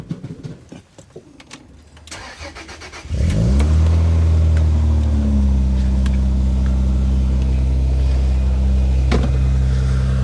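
A Rover 75/MG ZT with the KV6 engine, in neutral, cranks and catches after a few seconds of quiet clatter, then settles into a loud, steady idle close by that holds to the end.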